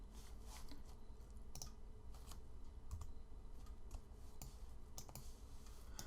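Computer keyboard keys pressed while working in Maya 3D software, a steady run of light clicks and taps scattered across the stretch, fairly close and alone with no talk.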